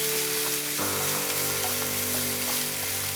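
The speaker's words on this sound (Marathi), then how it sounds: "आता ह्याच्यात आपण मसाला घालूया. हा मसाला आपण छान असा परतून घ्यायचा आहे." Masala paste frying in hot oil in a pan for stuffed pomfret fry, a steady bright sizzle that jumps louder as the masala goes in and keeps crackling close up with no talk.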